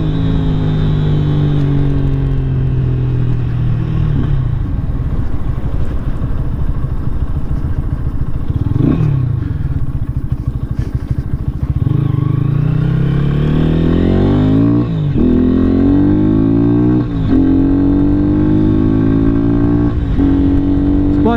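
Lifan KPR 200cc motorcycle on a ride, engine droning loud and steady throughout, rising in pitch through several accelerations and gear changes, with wind rush and no talk.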